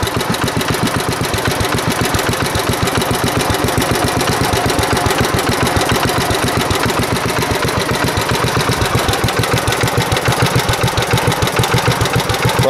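A 1958 Moto Mower engine running at low RPM, loud and close, with a steady fast chugging pulse that holds an even rhythm throughout.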